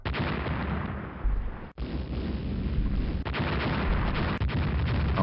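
Heavy 11-inch naval gunfire and shell strikes in the naval strategy game Rule the Waves during a cruiser engagement; a dense, continuous roar of booming blasts and explosions, loud and close, with brief dips between salvos.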